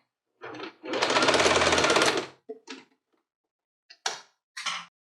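A sewing machine stitching a custom mixer cover: one steady close run of rapid stitching lasting about a second and a half, then a few short bursts and clicks.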